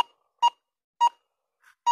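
A metal detector sweeping over old gold diggings gives short, evenly spaced electronic beeps, three loud tones and one faint one, clear against silence.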